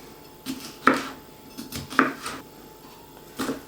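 A knife taps through a crisp bell pepper on a cutting board, cutting it into strips, a few separate chops spaced about a second apart, close and fairly quiet.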